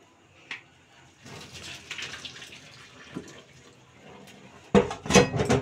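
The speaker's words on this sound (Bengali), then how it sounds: "এখন আমি চাউমিনটাকে ছেঁকে নেব।" Boiled chow mein noodles poured into a strainer, with light clinks and faint trickling before a sudden loud rush of draining water near the end, close by.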